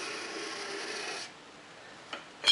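A hand-made card scraper's bevel scrapes straight-grained wood in a steady close rasping stroke for over a second, then quiet with a brief scuff and a sharper scrape at the end.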